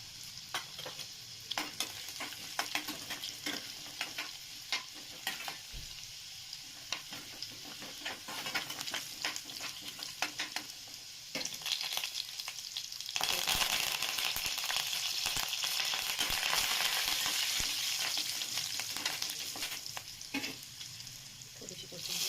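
Garlic, cumin and mustard seeds fry in hot oil, a crackling sizzle with frequent sharp pops and stirring scrapes that grows denser and louder partway through. A voice can be heard faintly.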